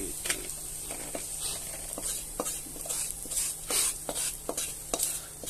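Gravy for matar paneer stirred in a hot kadhai, with regular scraping strokes of the spoon about every half second over a steady bright sizzle, heard up close.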